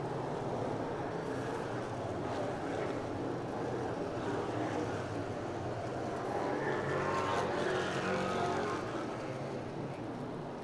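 Race cars come off the fourth corner toward the start-finish line at Thunder Road Speedbowl during the Vermont Milk Bowl, a steady broad engine roar from the distant pack swelling slightly as they approach, with no clear voices.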